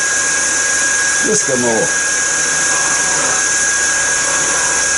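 A wood lathe spins steadily with a constant high whine while a rod is cut down with a scraper, a brief scraping chatter rising over the hum, with a short spoken remark in the middle.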